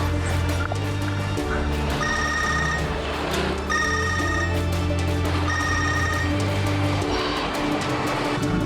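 A phone ringtone rings repeatedly in short melodic bursts over a steady low hum, with voices talking faintly in the background.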